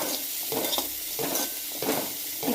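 Yellow pumpkin masala gravy is stirred in a pan over a low flame. A spoon scrapes in regular strokes over a constant close sizzle, with no voices.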